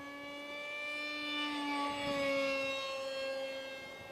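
A small RC MiG-29 model jet flying a roll overhead, its turbine a steady high whine that rises and falls in pitch as it passes, faint and distant, no voices.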